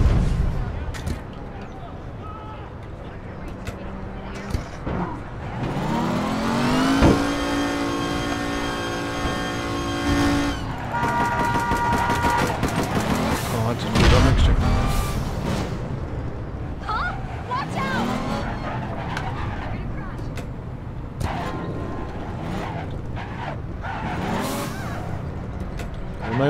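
A car engine revs and drives in the APB Reloaded open-world game, rising in pitch through gears with bangs and rumbles nearby, while players talk over it throughout.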